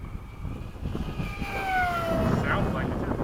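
An RC Me-163 model plane with a fast-spinning propeller, running on a 3S 2200 battery, whines past in flight, its pitch sliding downward as it passes over a steady outdoor background.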